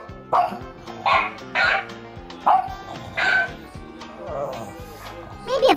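A pug barks repeatedly in short, sharp bursts at close range, a handful of woofs spaced irregularly.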